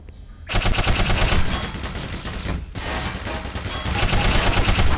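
Automated turret machine guns fire in Half-Life: Black Mesa, a loud, continuous rapid-fire chatter of shots that drops out briefly mid-burst before resuming, close and dominating with no talk.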